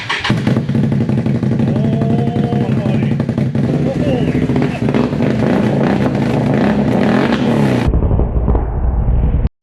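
A 2022 Can-Am Renegade 1000R XMR fitted with an RJWC exhaust revs loudly and up close, a dense, sustained engine roar that cuts off sharply near the end, with faint voices in the background.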